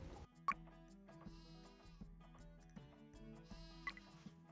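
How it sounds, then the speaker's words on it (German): Goats bleating at a goat farm in the strategy game Die Siedler IV, several short nasal bleats repeating in quick succession over a steady in-game background, fairly faint with no talk. "Alter, wie es bei der Ziegenfarm abgeht."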